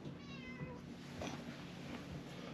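A pet cat at home meows faintly in a short, rising cry over a steady background hum, with no talking.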